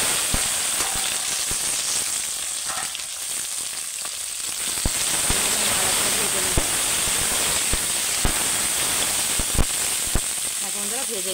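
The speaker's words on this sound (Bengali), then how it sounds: "দিয়ে পেঁয়াজটা আর ক্যাপসিকামটা তুলে দেবো" Onion and capsicum frying in a hot wok over tempering spices while cooking chicken kosha, giving a steady broadband sizzle throughout with occasional sharp pops and crackles.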